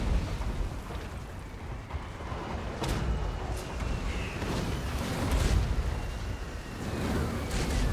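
Rocket volley explosions from Katyusha launchers in a Total War: Warhammer battle, a steady rumbling barrage of booms and bursts with several sharper cracks scattered throughout, loud and continuous.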